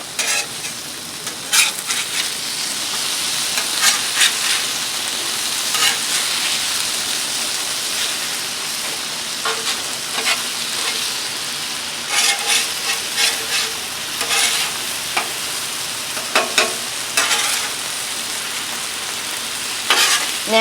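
Seasoned potatoes fry on a Blackstone griddle outdoors with a dense, loud, hiss-like sizzle, and several bursts of metal spatula scraping where the pieces are flipped.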